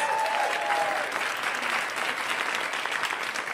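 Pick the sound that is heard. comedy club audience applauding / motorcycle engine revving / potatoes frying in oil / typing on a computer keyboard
comedy club audience applauding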